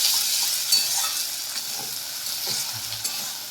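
Onions fried until brown sizzle in a pan with freshly added garlic paste as they are stirred, giving a steady close hiss with small scraping sounds from the stirring, and no voices.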